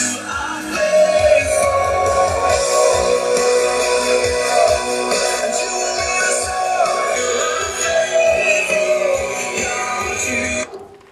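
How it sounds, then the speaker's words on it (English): Music plays through a new 6¾-inch rear speaker in a Toyota Highlander with the bass maxed: a steady, strained mix with repeated thumping low beats for about ten seconds, no talking. "It's the sound of a small speaker trying to push really, really hard."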